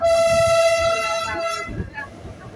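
A vintage train on the Ambarawa Railway Museum line to Tuntang sounds a loud, sustained horn blast lasting over a second, close by, then fading into background noise with some voices.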